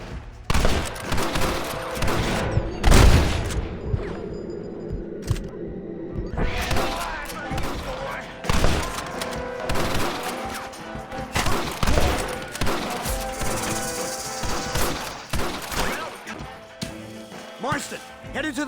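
Gunfire in a Red Dead Redemption cutscene: dense, irregular volleys of loud shots, some booming close and others crackling farther off, spread across the whole stretch with voices mixed in.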